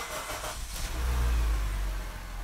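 A Honda Civic with a fluctuating, surging, stalling idle cranks and starts during an idle relearn, then settles into a loud, steady low engine rumble heard close up.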